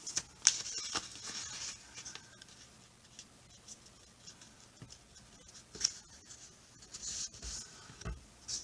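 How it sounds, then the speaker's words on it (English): Origami paper being folded and creased by hand: soft, intermittent rustles and crisp scraping taps, quiet and close, with scattered brief louder crinkles and no speech. "We're going to take this edge, we're going to fold it over so it meets this edge."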